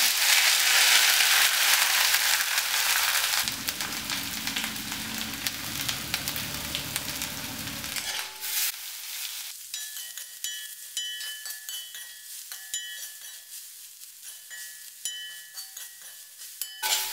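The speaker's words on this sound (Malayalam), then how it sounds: "ഇനി നമുക്കിതിലേക്ക് അരപ്പിട്ടൊന്ന് ഇളക്കാം" Ground coconut paste is stirred into a curry frying in a pan for a simple Kerala lunch. Loud, steady sizzling fills the first half, then eases into a quieter bubbling with occasional light clinks.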